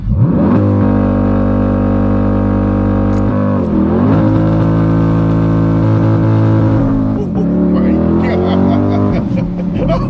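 Corvette C8 engine revving as the gas pedal is pressed, a loud, close, sustained roar that rises and dips in pitch twice, with people talking over it.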